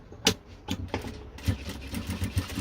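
A sewing machine stitches fabric for a small water bottle carrying bag. It gives a close, uneven rhythmic chatter with short runs of stitching and brief stops.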